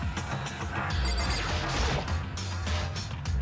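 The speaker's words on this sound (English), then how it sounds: "Did this giant piece of trash just fall down here?" A large piece of trash crashes down in the Danganronpa video game, a loud smashing impact with clattering debris lasting a few seconds over game background sound.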